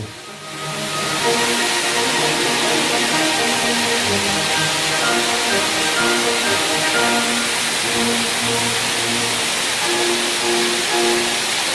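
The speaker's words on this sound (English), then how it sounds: "a distant view of the waterfall." A distant waterfall on an island in the Azores, near an old mill house, gives a steady broad roar that holds even and unbroken throughout, with no voices over it.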